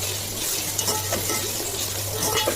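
Onions sautéing in a pan with turmeric powder for a fish curry make a dense, continuous sizzle with faint stirring scrapes and soft utensil clinks, close and fairly loud.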